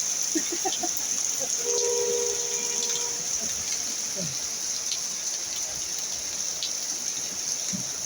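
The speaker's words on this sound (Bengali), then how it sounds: "সেই পরিমাণ বৃষ্টি" Heavy rain pours steadily in Najipur as a dense, even hiss that never pauses.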